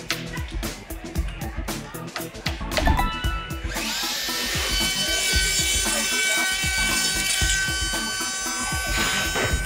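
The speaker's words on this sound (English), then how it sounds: "All of the really cool sounds of the tools. The hammers and the saws." Woodworking tool noise while building a boat: rapid hammering or tapping clatter at first, then a steady, loud whine of a power tool running continuously.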